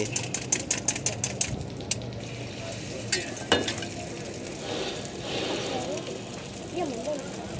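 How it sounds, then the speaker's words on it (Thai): An omelette sizzles in a pan at a local market stall in Pakistan. Steady frying crackle follows a quick run of tapping strikes at the start, with people talking nearby throughout. "ตัวนี้เขากำลังจะเจียวไข่"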